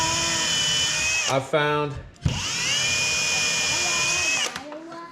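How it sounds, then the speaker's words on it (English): A power drill pre-drills screw holes into a wooden beehive box, whining loudly in two long runs with a brief stutter between them. A voice speaks briefly near the start. "I like to pre-drill mine the rest of the way in."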